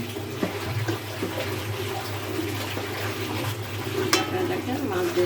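Pabda fish goes into oil and frying spice masala, giving a soft sizzle under clatter and stirring noises from the pan, with one sharp clink near the end.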